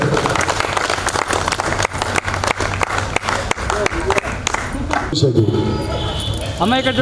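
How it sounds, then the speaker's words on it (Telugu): Clapping from an audience at a stage event, sharp irregular hand claps standing out over a loud, busy mix with voices and some tonal sound toward the end. "అన్ని చోట్ల చప్పట్లు కొట్టాలి."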